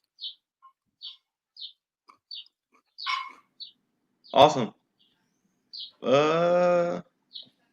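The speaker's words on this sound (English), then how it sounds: "we hear the birds" Birds sing outdoors in short, high chirps repeated every half second or so, light and fairly close, while people talk between them.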